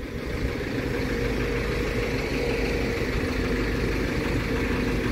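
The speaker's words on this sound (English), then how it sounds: "Big ass forklifts." A large forklift's engine idles at a loading yard, a steady low rumble with constant vibration and some wind noise, holding evenly loud throughout with no talk.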